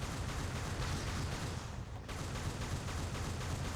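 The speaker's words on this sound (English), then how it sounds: "He's trying very hard to shoot me on the ground or walk over me" Dense continuous gunfire and explosions in Mobile Suit Gundam Battle Operation on PS3, a steady wash of battle noise with a brief dip midway, fairly quiet and with no talk.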